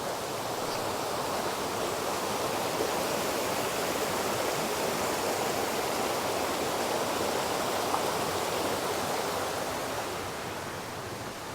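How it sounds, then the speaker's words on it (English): Small waterfalls on a river along a woodland walking trail at Laragh, a continuous dense rushing of falling water, loud and close, steady throughout and easing slightly at the very end. "Look, little waterfalls."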